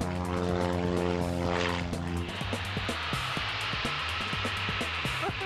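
Propeller stunt plane performing aerobatics, its engine droning steadily before shifting into a rough, pulsing note as it manoeuvres, loud and close throughout.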